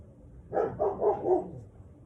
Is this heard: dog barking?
yes